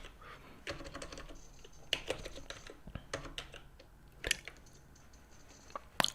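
Close-up typing on a computer keyboard, with irregular clicks and clusters of keystrokes separated by short pauses, fairly quiet and alone without talk.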